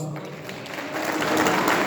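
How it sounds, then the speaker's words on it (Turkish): Applause from the audience at an AK Parti iftar event in Hannover, a steady wash of clapping that swells slightly toward the end, heard alone. "büyük bir alkış"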